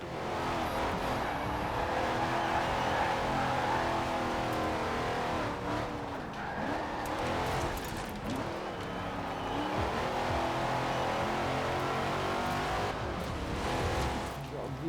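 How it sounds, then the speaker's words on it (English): A B-class car in a racing video game accelerates uphill, its engine droning steadily with shifting revs and occasional tire squeal, loud and continuous over the whole stretch. "And accelerate up the hill"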